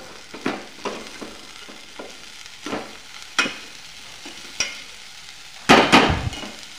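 Moth bean (matki) curry mixture with a little fresh coriander being stirred in a pan on the stove: a close, irregular series of scraping clicks from the spoon over a low sizzle, ending in a louder burst of scraping and frying.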